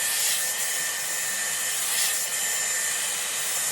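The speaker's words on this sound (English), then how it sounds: "It is a hairdryer at the end of the day." A Dyson Airwrap hair dryer blows steadily nearby, a loud, even whoosh of airy hiss with a faint whine and slight swells in strength.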